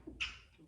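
A single short, sharp sneeze burst with a breathy hiss, close and fairly quiet, over a faint background.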